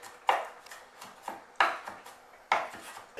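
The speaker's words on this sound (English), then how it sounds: "So it just requires a rough chop, because you're going to be frying it up." A knife rough-chops garlic on a cutting board in a home kitchen: three sharp, loud chops with quieter scraping taps between them, close and alone.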